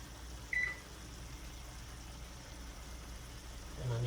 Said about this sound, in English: I'm going to go ahead and set the timer